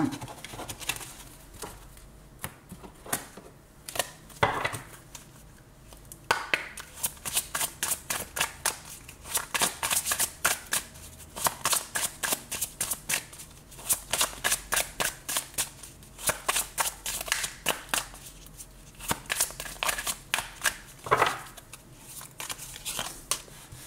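Tarot cards being shuffled for a reading: a run of quick, crisp riffling bursts and soft papery flutters, recurring in uneven clusters at close range, with no voices.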